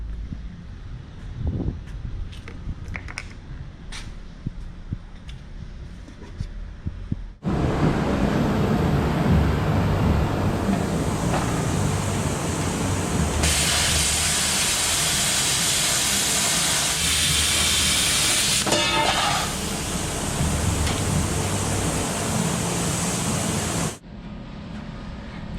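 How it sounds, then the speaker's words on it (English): A plasma cutter slicing rough metal discs for a BMW Z-Kart rear-mounted radiator build, a loud steady hissing roar that starts abruptly after quieter shop noise, runs continuously for about sixteen seconds, then cuts off. "you saw me just cut out those two discs with the plasma cutter, just a rough cut"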